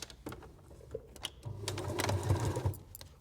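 A sewing machine top-stitches fabric onto an oven glove, its motor whirring in a short run that builds and steadies, with small clicks and handling noises around it, close and fairly quiet.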